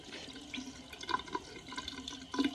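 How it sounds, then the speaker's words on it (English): Warm water sprays to rinse an Alocasia plant, a faint, uneven splashing and trickling with small bursts and drips, close but quiet, with no talk. "I'm gonna spray her down and rinse her off"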